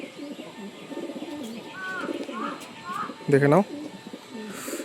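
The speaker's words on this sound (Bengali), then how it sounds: "এই হচ্ছে বড় পায়রা, খুব ছটপটে পায়রা আছে" Large, restless pigeons being handled for sale coo softly in low, throaty phrases, with a brief burst of fluttering wings near the end, while someone talks over them close by.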